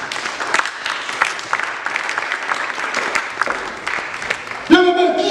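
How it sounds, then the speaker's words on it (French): A church congregation applauding, a loud spread of clapping mixed with voices, ending with a sustained tonal swell like music or singing. "Est-ce qu'on peut acclamer la parole du Seigneur?"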